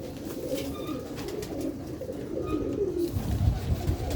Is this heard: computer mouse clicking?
no